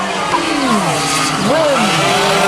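Vintage sidewinder racing karts running side by side down a back straight, their engines droning and rising and falling in pitch as they pass, with a voice talking over the steady roar.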